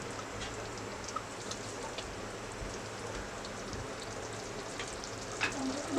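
Methi chicken sautéing in a clay pot, a steady soft sizzle and crackle with faint stirring scrapes, continuous and moderately quiet throughout.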